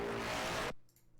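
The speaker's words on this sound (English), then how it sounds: "Adds quite some crunchy distortion." Crunchy, distorted electronic sound from a Xenofish plugin preset in an orchestral trailer track, a dense loud burst that cuts off abruptly after about three quarters of a second, leaving near silence.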